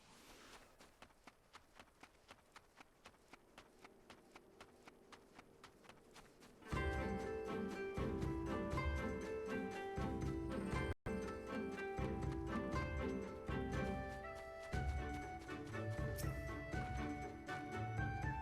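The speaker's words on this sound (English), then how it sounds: "Okay, so we're gonna ride a horse." Steady clip-clop of horse hooves while riding in Final Fantasy XIV, evenly spaced and faint at first, then continuing under a swell of game music.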